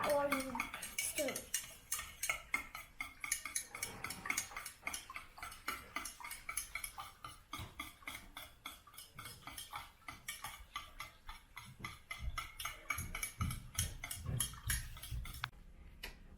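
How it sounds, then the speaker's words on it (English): Metal utensil scraping and clinking around the inside of a pot during home cooking, a steady run of quick, close taps and scrapes that continues for many seconds with no talking. "remember to turn the pot while you stir"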